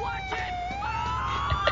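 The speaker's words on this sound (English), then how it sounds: "Cinematic ambulance." A wailing ambulance siren in GTA IV multiplayer sweeps steadily up and down, synthetic and close, over a constant low hum, with a couple of brief vocal blurts near the end.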